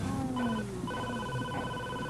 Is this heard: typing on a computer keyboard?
no